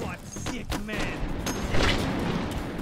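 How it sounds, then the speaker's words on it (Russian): A single finishing gunshot from a weapon in the VR shooter H3VR, a loud crack followed by a boom, with someone talking around it. "Контрольный выстрел на всякий случай."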